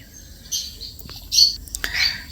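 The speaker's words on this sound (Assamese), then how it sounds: "ইমান ধুনীয়াকৈ কথা পাতি আছে, ধনেশ চৰাই।" A few short, bright bird calls ring out close by, sharp squawky chirps in quick bursts over a quiet background.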